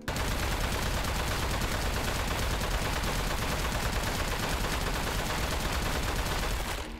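Dense, continuous automatic gunfire from the video game Aperture Desk Job rattles on without pause for several seconds, loud and unbroken from start to finish.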